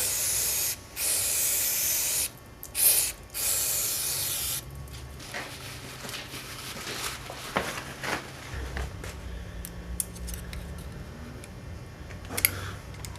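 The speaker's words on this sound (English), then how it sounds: "Spray all the crap out of there." Loud hissing bursts from an aerosol can cleaning a Subaru EJ22 engine part, a few long sprays in a row, then quieter clicks and rattles of handling parts nearby.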